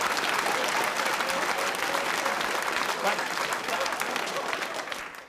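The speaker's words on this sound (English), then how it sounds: "Your applause has been recorded and donated to a less fortunate artist" Sustained applause from a theatre audience fills the whole stretch, dense and loud, tapering slightly at the very end.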